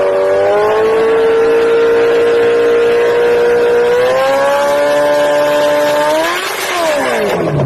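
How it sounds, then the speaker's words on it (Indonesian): A four-cylinder car engine runs steadily at a fairly constant pitch, loud and close, rising slightly partway through and then swooping up and back down near the end, with no talk. "Berikut suara motor 4 silinder."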